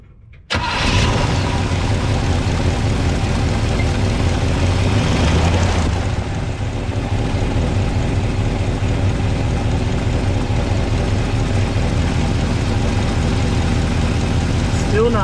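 The engine of a 1962 Chevrolet C10 pickup truck cranks and catches, then settles into a loud, steady, close idle that runs on without stopping, with a person's voice partly heard over it.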